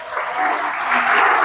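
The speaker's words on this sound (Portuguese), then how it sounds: "Você pode aplaudir o nome do Senhor?" A church congregation applauds in worship, a brief swell of clapping and voices that grows louder over a second and a half.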